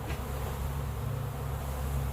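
Honeybees from a package being installed into a hive, a dense, continuous close-up buzz of many insects swarming around.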